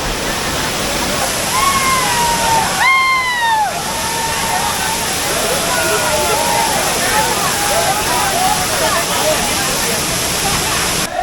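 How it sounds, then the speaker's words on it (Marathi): Savdav waterfall near Kankavli in Sindhudurg roars as a steady, loud broadband rush through the whole stretch, with a crowd of visitors and voices calling over the falling water. "अरे धबधबा मस्त"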